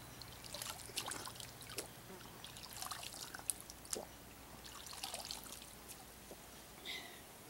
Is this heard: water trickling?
yes